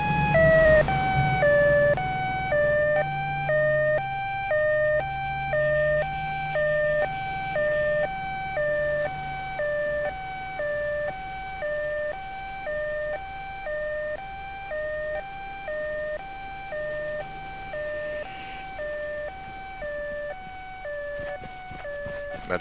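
Wailing two-tone ambulance siren in a police patrol video game, alternating high and low pitches steadily for over twenty seconds at moderate volume, with engine rumble beneath and faint voices at times.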